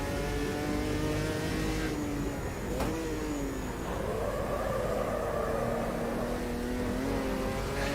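A stock car engine, reminiscent of an Opala, racing around Bathurst in Automobilista 2, revving loudly with a brief drop as the car shifts, then climbing and holding a hard, buzzing pull.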